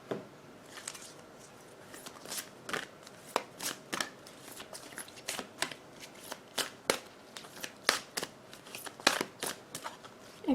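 Tarot chakra cards being shuffled by hand, a continuous series of crisp riffling snaps and slaps at a brisk, uneven rhythm, close and clear with no talking.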